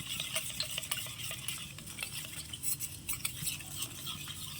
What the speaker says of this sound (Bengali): এবার 3 রকম সসটা ভালো করে মিক্সড করে নিচ্ছি।